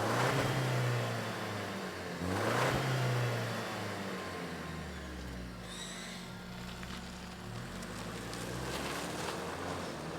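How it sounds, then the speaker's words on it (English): A 2024 Toyota Tacoma TRD Sport hybrid pickup with the i-Force Max powertrain starts up and pulls away, its steady low engine hum rising and falling with a couple of surging revs, close by with no talking. "let's fire this thing up and see it move."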